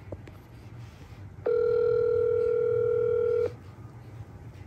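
A telephone ringback tone heard while a call to a father is being placed: one steady, loud tone lasting about two seconds, rising out of a quiet room background and then stopping.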